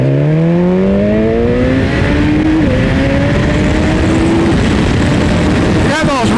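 A BMW S1000XR motorcycle engine revving hard, a loud rising whine that climbs steadily through the gears with brief dips at each shift, set against heavy wind rush.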